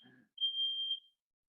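A smoke alarm gives one sharp, high, steady beep lasting about half a second, sounding clear and isolated after a brief murmur.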